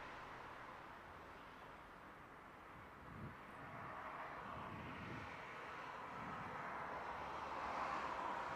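An EasyJet A319 airliner at Madeira Airport. A faint, distant jet-engine rumble slowly swells and grows louder toward the end, with no voices.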